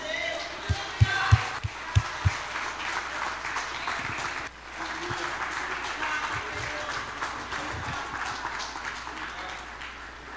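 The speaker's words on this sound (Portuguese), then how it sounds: "Você pode aplaudir a Jesus?" Congregation applauding during a church service, a sustained wash of clapping across the room with a few louder sharp claps near the start and some voices mixed in.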